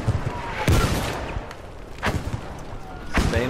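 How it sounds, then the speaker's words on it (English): Artillery shells landing in a Battlefield V Firestorm match on Wildercrest: three heavy booming impacts about a second apart, each with a broad crack and rumbling tail, over a constant low background. "Watch out for the artillery."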